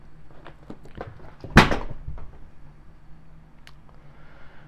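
A single sharp clattering thump as a cat kicks over a chair indoors, a brief loud crash with a short rattling tail, amid quiet scattered household ticks and knocks.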